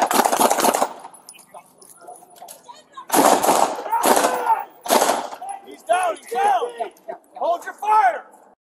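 Police fire beanbag rounds during an officer-involved shooting, with a sharp burst of loud cracks at the start and more sharp reports midway, as officers shout over and between the shots.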